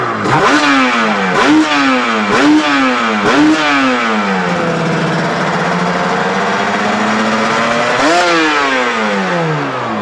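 Yamaha TZR250 two-stroke motorcycle, an old bike with a slightly lagging throttle, revved close up in four quick sharp blips followed by a longer sustained rev and one more blip, loud and alone.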